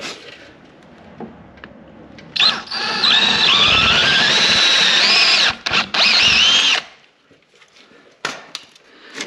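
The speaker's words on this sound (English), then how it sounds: "So we're going to use this one right here to drill out." A power drill whines loudly for about four seconds, pitch rising as it bites while drilling out an ice scratcher part, briefly stops, then runs again before quiet returns with small clicks.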